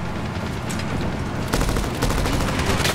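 Rapid automatic gunfire in Medal of Honor (2010), dense bursts of loud, close shots with sharper cracks after the midpoint, no talking.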